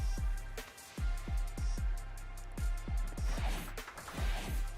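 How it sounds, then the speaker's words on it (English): A short musical motif of punchy, bass-heavy hits repeating in an uneven rhythm, with bright stabs and swells layered over the top. "when Rivals Blade hits his ult, it gives him a little musical motif that sounds kind of like this"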